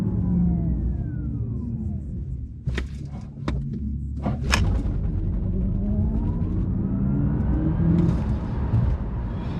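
Audi RS e-tron GT dual-motor electric car accelerating along scenic roads, a gliding electric whine rising over steady road rumble, with a few sharp clicks and knocks partway through.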